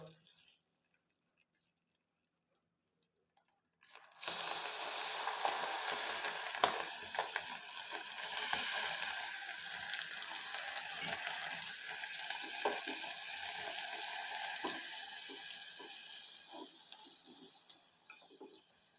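After a few seconds of near silence, a hot pan bursts into loud, crackling sizzling as a drop of water hits it, continuing steadily, popping and spitting, then gradually easing.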